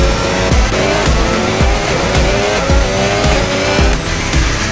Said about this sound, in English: We're here on board with a McLaren here.